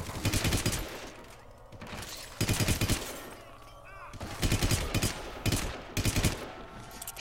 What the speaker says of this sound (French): sur les coups de feu de cette arme, on peut entendre des bruitages très connus d'armes à feu